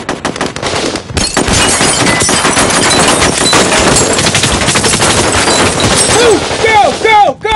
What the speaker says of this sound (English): the French Special Forces is evacuating the passengers through a hail of gunfire